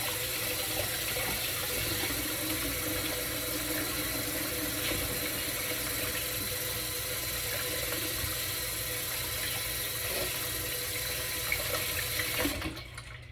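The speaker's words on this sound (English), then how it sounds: "I'm just going to fill my bowl with water and wash my hands for the next part." Water runs steadily from a kitchen tap into a bowl for hand washing, a continuous close gush lasting several seconds before cutting off abruptly near the end, with no talking.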